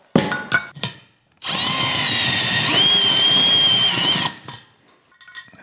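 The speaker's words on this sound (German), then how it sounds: "Und das schrauben wir jetzt mal da drauf." A cordless power screwdriver drives a screw into a 3D-printed part on an old industrial lamp, whining steadily and close for about three seconds, with handling knocks before and after.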